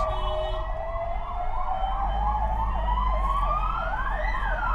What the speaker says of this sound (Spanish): Al son de sirenas.